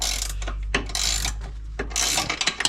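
A ratchet tightens bolts on a Land Rover Discovery 3 during front air spring work, with rapid repeated clicking strokes in several bursts, close and clear over a low steady hum.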